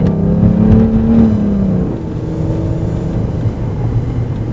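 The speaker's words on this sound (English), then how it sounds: "so listen to this engine. I really hope you guys can hear this." A Mercedes S600 V12 engine revs under heavy throttle, its pitch rising briefly and then settling into a steady, loud rumble of road and engine noise, heard from inside the car with no talking.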